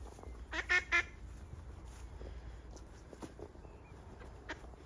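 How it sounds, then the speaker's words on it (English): Ducks landing on a canal near a marina give a few brief honking quacks early on, fairly faint against quiet outdoor background noise. "And ducks just coming to land."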